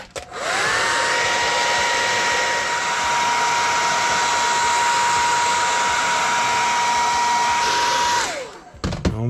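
A heat gun warms vinyl covering on an RC car body: a loud, steady blowing roar with a whining tone that rises as it starts, holds for about eight seconds, then cuts off, leaving faint handling sounds.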